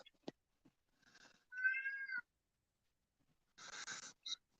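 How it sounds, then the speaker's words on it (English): A cat meows in a quiet room: a short call, then a longer drawn-out meow, a pause, and two more closer meows with small clicks between. "Oh, I hear that cat."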